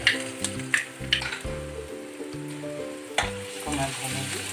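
Ginger and garlic fry in a pan with a crackling sizzle and occasional stirring scrapes, heard beneath prominent background music.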